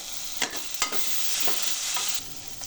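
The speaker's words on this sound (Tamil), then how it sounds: "இப்போ அதோடு சேர்த்து இதை நல்லா வதக்குவோம்." Ginger garlic paste sautés in a pan for a wedding-style potato masala, giving a steady bright sizzle punctuated by a few spatula stirring scrapes, close and fairly loud with no talking.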